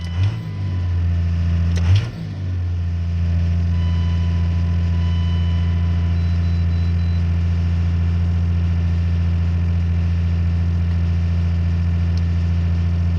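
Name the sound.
Cummins diesel engine running at high RPM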